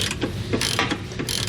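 Ratchet wrench loosening 21mm nuts on a truck's front bumper during a trailer hitch install, a steady run of rapid metallic clicks, close and loud with no talking.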